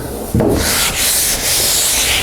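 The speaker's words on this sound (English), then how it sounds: "I'm probably gonna go over the whole hood with the 80 grit and kind of see where we're at." Block sanding primer on a car hood with 80 grit sandpaper, loud close rasping strokes that start abruptly and run in long back-and-forth passes, with no talk.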